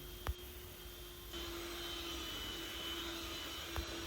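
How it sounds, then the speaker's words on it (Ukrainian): An electric hand mixer fitted with dough hooks runs at a steady drone while kneading cookie dough with flour, starting up partway through with a couple of faint knocks. "Міняємо міксеру насадки, сиплемо борошно і вже будемо помаленьку замішувати тісто."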